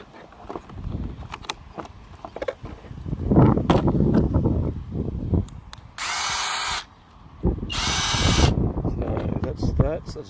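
A Work Zone 20V cordless SDS rotary hammer drill from Aldi runs in drill mode in two short, steady bursts, with handling and rustling noise around them.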